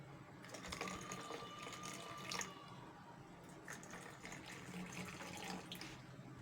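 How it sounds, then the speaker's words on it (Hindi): Water is poured into a batch of fresh peach juice with lemon pieces, giving a steady, soft splashing trickle with a few brighter gurgles. It runs continuously for several seconds at low volume with no talking. "और बाकी हम इसमें थोड़ा सा पानी ऐड कर लेंगे।"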